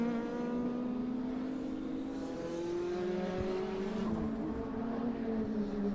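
Race cars circulate at Mondello Park, a steady engine drone with sustained tonal harmonics that slide gently in pitch as the cars pass, heard alone at a moderate distance.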